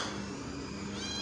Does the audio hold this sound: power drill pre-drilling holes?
no